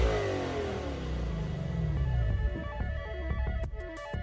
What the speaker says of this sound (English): It also has the signature stacked quad exhaust tips that produce a ferocious roar